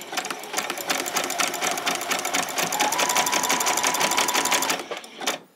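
A sewing machine stitches fabric for a doll's pair of boxer shorts, running at a steady, rapid clatter for about five seconds before it slows and stops. The sound is close and alone.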